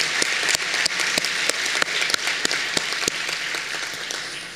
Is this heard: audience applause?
yes